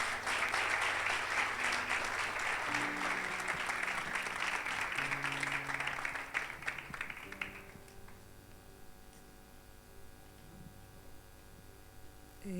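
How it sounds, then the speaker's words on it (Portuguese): A church congregation applauds together, a dense steady wash of clapping for about seven seconds that then fades away, leaving quieter background tones. "vamos aplaudir ao Senhor."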